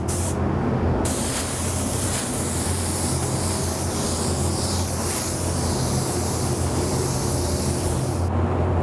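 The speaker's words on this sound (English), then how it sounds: "While we were spraying our Hot Rod Sparkle White" Spray gun laying down a first coat of Hot Rod Sparkle White paint, a steady close hiss of atomized spray running almost without a break, briefly cutting off near the start and end.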